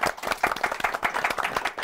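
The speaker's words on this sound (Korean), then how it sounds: "오늘 수고하신 세 분의 MC분들 박수 부탁드리겠습니다" Audience applause from a crowd at a CEO talk-show event, honoring the three MCs: dense, steady clapping throughout, close and lively, with no voices over it.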